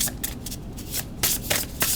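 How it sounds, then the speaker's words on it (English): Matte-finish tarot cards are riffled and shuffled in several quick bursts, a crisp papery flutter close to the microphone with brief pauses between. "They shuffle nicely because they have a matte finish"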